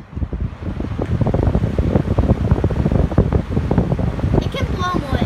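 A beat-up vintage Lakewood box fan, recovered from the trash, runs on high, its loud, close, steady rushing airflow swelling up after a quiet start and blowing continuously.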